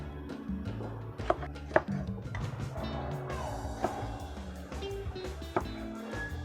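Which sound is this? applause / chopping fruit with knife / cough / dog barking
chopping fruit with knife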